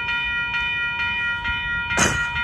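A train on Amtrak's Capital Corridor approaches the 98th Avenue railroad crossing in Oakland, California, with steady crossing bells ringing throughout and a brief loud hiss or horn blast near the end.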